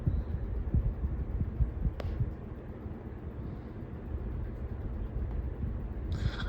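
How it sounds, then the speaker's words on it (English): An out-of-balance 1996 Holmes box fan, model HABF-25, runs with a low steady hum and a rhythmic throbbing wobble pulsing through it, close and quiet with no voices. "But I'm gonna keep this fan on to show you guys how bad this fan is out of balance."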